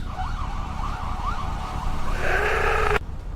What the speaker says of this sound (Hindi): पीछे सायरन सुनाई दे रहे हैं।